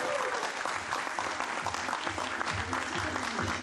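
Steady applause from a gathering during a farewell presentation with flowers, continuous clapping at moderate volume with faint voices mixed in, ending abruptly.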